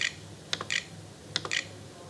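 Computer keyboard typing in two short bursts of quick, light key clicks, faint and close, with no voices.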